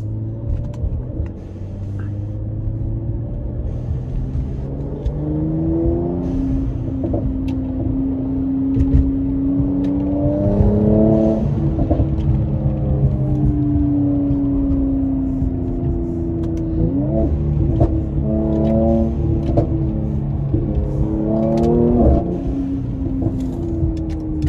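RENNtech-tuned 2020 Mercedes C43 AMG on the road, a close, continuous engine rumble rising and falling through repeated accelerations and gear changes over about twenty-five seconds, with no voices.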